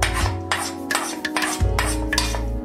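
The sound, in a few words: stirring tempering into gourd dal in a pot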